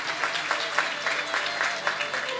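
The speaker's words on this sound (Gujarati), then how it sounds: "એકવાર તાળીઓ સાથે એમના માતા પિતાને વધાવજો." An audience claps together to welcome parents at a Jain diksha ceremony. The applause is brief and steady, with dense overlapping claps that rise and fall slightly.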